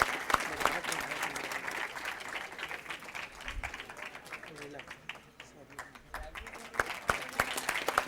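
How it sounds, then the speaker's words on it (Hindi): Quiz show audience applauding the quarter-final winners, a dense sustained burst of clapping from a crowd, fairly close, with a voice talking over it. "जोरदार तालियां, विनर है भाई पहला क्वार्टर फाइनल"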